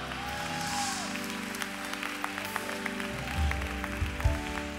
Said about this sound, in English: Come on, y'all, clap for both of them,